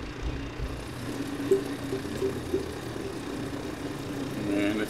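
A second aircraft engine spins up in Microsoft Flight Simulator on a scenic VFR flight over Cape Cod Bay. A steady mid-pitched engine drone with a faint propeller hum rises slowly in level, with no talk over it.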